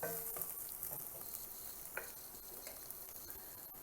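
Onions frying and sizzling in a pan as they brown for a five-lentil Rajasthani dal, a steady close crackle with occasional stirring clicks and no talking.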